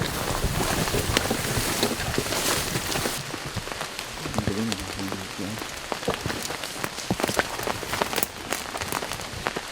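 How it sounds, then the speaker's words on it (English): A steady rain shower falls in the woods while bear hunting, a dense continuous patter of drops on leaves and ground with occasional louder splashes, no voices. "what was a mist all afternoon had started to turn into a pretty good rain shower"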